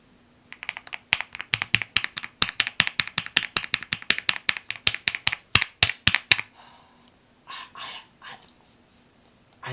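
Fast, even clicking of keys being typed on a 2008 netbook keyboard, a close rapid patter of dozens of crisp taps for several seconds, then a few softer scattered sounds.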